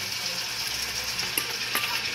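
Shrimp sizzling in a hot pan for coconut curry pasta, a dense continuous frying hiss with a few faint clicks of stirring, close and steady, no talk.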